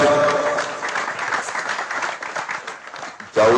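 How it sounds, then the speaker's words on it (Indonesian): Audience applause for Romo Yai Idham Musabbik at a gathering: a loud burst of clapping that thins and fades over a few seconds, voices underneath, then a sudden loud sound at the very end. "Tepuk tangan untuk Romo Yai Idham Musabbik."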